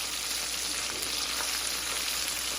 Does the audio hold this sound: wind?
no